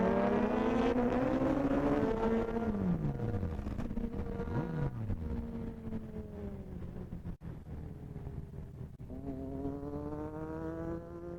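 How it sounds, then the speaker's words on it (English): A Ducati 899 superbike roars past on a Sunday group ride, its engine note sweeping down in pitch as it goes by, then another bike rising in behind it, loud and close with wind buffeting throughout. "What a bike, what a bike. Ducati 899."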